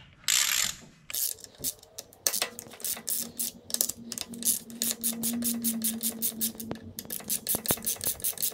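Ratcheting of a hand tool backing out the three 10 mm screws on a Ducati clutch cover, a rapid series of close, sharp clicks in bursts with brief pauses between them.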